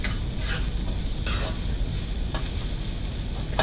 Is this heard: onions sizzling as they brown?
yes